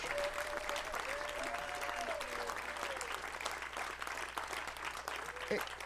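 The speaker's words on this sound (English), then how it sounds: "I shouldn't have cut off the applause there" An audience at an acoustic song circle concert applauds, faint and somewhat distant clapping with a voice speaking over it and a low steady hum beneath.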